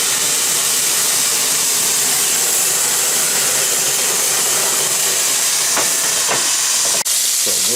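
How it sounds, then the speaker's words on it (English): Red wine poured into a hot pan of garlic for lamb shanks sends up a steady, loud broadband hiss of steam and sizzle, with a couple of brief clinks near the end. "deglaze it with some more red wine. Take some of that heat out."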